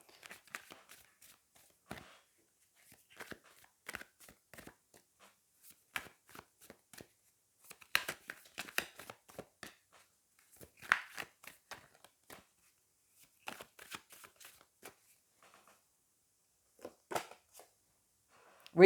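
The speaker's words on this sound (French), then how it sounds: "je vais aller prendre 2 cartes comme je l'ai fait dans les tirages précédents" Tarot cards are shuffled and drawn from the deck, with many soft, quick papery flicks and slides in irregular bursts, close and quiet, with no talking.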